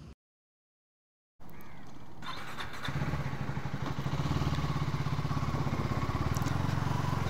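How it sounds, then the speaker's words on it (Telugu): A KTM Duke motorcycle cold-starts after a brief silence, settling into a steady, close, loud idle with a fast regular exhaust pulse and no talk. "సో గైస్, బైక్ అయితే కోల్డ్ స్టార్ట్ అయిపోయింది."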